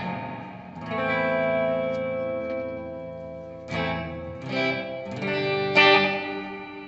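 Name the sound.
electric guitar through BOSS delay pedal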